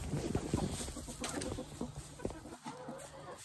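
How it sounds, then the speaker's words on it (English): Silkie cross chickens on a farm near their nesting boxes, giving soft clucks and short murmuring calls at close range over a low background, with no clear speech. "These are a cross of silky chickens"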